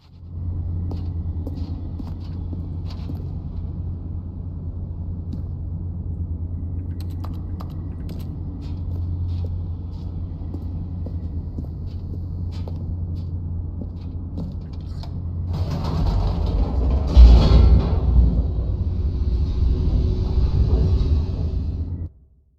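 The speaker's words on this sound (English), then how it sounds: "The elevator raced downward, plummeting towards an unknown fate." Elevator in The Stanley Parable game descending: a steady low mechanical rumble with faint clicks, then a louder rushing, rattling surge as it plummets, with a brief heavy clunk.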